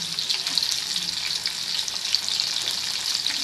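Sliced bitter gourd fries in a pan, giving a steady, close, bright sizzle with occasional stirring scrapes throughout.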